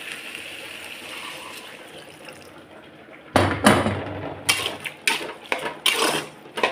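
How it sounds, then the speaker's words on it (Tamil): A little water is poured into a pan of sautéed tomato and chili masala for a brinjal, drumstick and potato kootu. Quiet sizzling gives way to sudden splashing bursts that come in uneven pulses. "இப்போ கொஞ்சமாக தண்ணி ஊற்றிப்போம்."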